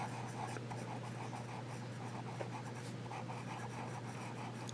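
A medium-nib fountain pen that is nearly out of ink writes on Caliber paper, giving a faint, close, continuous scratching in short strokes over a low background hum.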